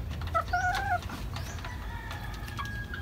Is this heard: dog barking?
no